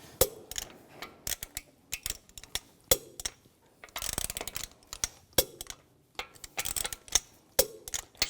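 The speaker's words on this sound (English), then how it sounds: "Now I'm going to torque the lug bolts to 90 foot-pounds in a cross pattern to tighten the wheel down evenly." Torque wrench tightening the lug bolts on a 2004-2009 Audi A4 Quattro front wheel, torqued to 90 foot-pounds in a cross pattern: sharp, close ratcheting clicks in irregular bursts with brief pauses between bolts.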